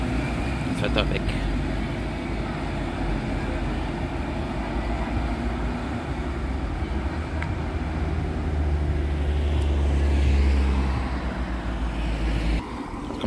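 A city bus pulls away from a stop in Mallorca, Spain, with a steady low engine rumble that rises and fades, and a voice speaks over it.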